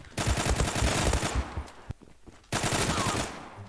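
Rapid automatic gunfire in the online shooter Zula bursts loudly and continuously, breaks off into a short quiet gap with a single shot, then resumes as another sustained volley.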